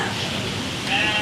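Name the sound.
goat bleating, bought for Eid sacrifice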